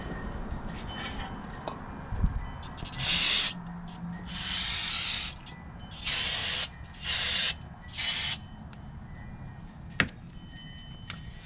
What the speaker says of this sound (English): just give them a little brake cleaner